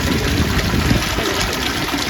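Water pouring steadily into a trout farm pond, a continuous loud gush and splash with no break and no talking over it.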